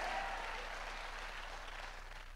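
A church congregation claps in a dense, steady wash of applause that fades slightly over a couple of seconds, heard at a distance and fairly soft, with no voices standing out.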